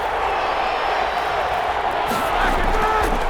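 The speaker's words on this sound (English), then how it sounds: "The crowd here in the Dome making things difficult." Stadium crowd noise inside the Dome during a Madden NFL 21 game between the Pittsburgh Steelers and New Orleans Saints, a steady loud roar that swells with cheering near the end.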